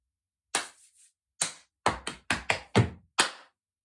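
Body percussion groove of sharp claps, quick chica-chica slaps and stamps, eight crisp close hits in an uneven rhythm with short gaps, loud and clear with no talking.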